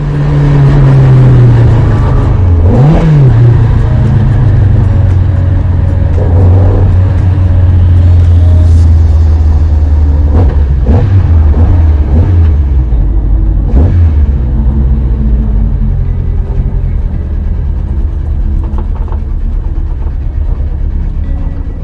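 A Marcos race car at Donington circuit pulls into the pits, its engine droning loud and close throughout, with revs rising and falling as it brakes and turns, and no talk.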